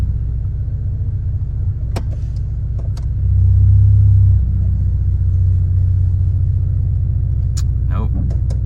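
A 1996 Volkswagen MK3 engine on a test drive, a steady low rumble that swells louder for a moment midway and then settles, heard from inside the car with a few faint clicks.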